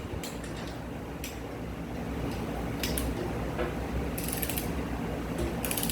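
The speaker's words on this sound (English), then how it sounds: "still torquing down the intake manifold bolts" Close ratcheting clicks come in short bursts while engine intake manifold bolts are torqued down, set against steady workshop background noise with no talking.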